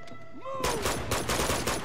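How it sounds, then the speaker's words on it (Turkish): Rapid gunfire in Uncharted: Among Thieves, a game firefight with bursts of shots starting after a brief lead-in of game music and effects, loud and repeating in quick rhythm. "Gidene kadar ateş edeceğim."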